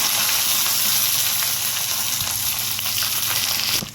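Mustard seeds, fenugreek, dried red chillies, green chilli and curry leaves fry in hot oil for a tempering, a loud, close, continuous sizzle and crackle that cuts off abruptly at the end.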